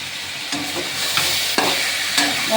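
Vegetables stir-frying with salt, turmeric and slit green chillies, a steady close sizzle broken by three or four scraping stirs of a spatula against the pan.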